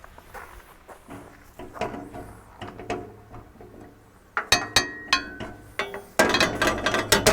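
A puller works a bandwheel bearing off a Wood Mizer LT40 sawmill, giving close metallic ratcheting clicks and clinks that build into sharper, louder rhythmic bursts toward the end, with no talk.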